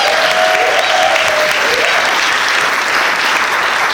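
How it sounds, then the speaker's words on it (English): Wedding guests applauding in a reception room, a steady dense round of clapping throughout, loud and close, with a faint whistle early on. "Round of applause for them."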